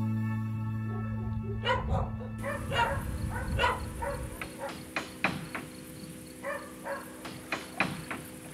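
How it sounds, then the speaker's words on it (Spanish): Dogs in a harbour cove along Chile's Carretera Austral give a series of short barks, fairly close and spaced irregularly, over a steady buzz of insects or crickets. "Los perros son anfitriones en los laberintos de la caleta"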